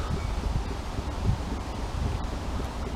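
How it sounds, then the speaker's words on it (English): Wind blowing through trees on a cool day outdoors, a steady rushing roar with rustling leaves and low gusty rumble, continuous and fairly close for the whole stretch. "The wind is blowing, moving through the trees."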